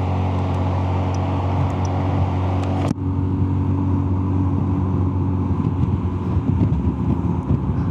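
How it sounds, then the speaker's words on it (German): A Zontes 350E motorcycle leaves the autobahn with a loud, steady engine drone under heavy wind rush. One brief bump breaks the flow partway through. "Ich fahre jetzt hier von der Autobahn runter"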